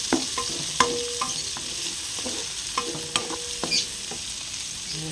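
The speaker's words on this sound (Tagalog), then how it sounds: "Lagay na natin ang ating bawang sibuyas. Luya. Sili." Garlic, onion, ginger and chili being sautéed for pork adobo: a soft steady sizzle in hot oil with intermittent clinks and scrapes of a utensil stirring in the pan, close by.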